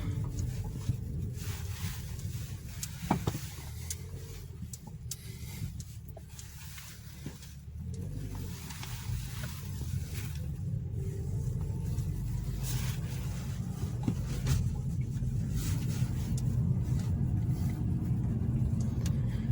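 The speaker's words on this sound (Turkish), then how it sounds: "Şu anda aracın sesini duyuyor musunuz bilmiyorum ama yani belki duyarsınız." A Toyota Corolla 1.6 heard from inside while driving slowly, a low steady engine and road rumble that builds gradually, with no talking over it.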